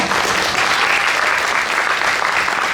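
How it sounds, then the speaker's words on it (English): A live audience gives a big round of applause for two panel guests, the clapping dense, steady and loud for its whole length with no pauses. "Alright, so maybe we can give both of them a big round of applause."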